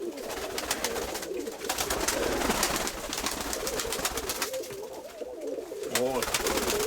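Pigeons coo steadily over a busy, noisy background of fluttering and rustling, several birds close by.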